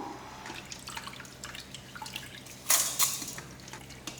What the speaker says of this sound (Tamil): இன்னும் இதை ஒரு நாலு வாட்டி கழுவிடலாம் அப்போ நல்லா பளிச்சுன்னு ஆகிடும்